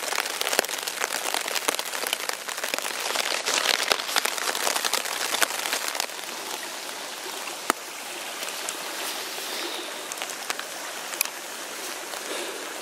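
Rain falling steadily outdoors in the woods, a dense continuous patter with scattered louder drops, fairly close and heavier in the first half before easing slightly, with no talking.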